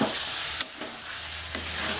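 Goat mutton and tomatoes being sautéed in a pan for Bengali-style mutton curry, with a steady close sizzle and a few sharp scraping stirs. No voice is heard.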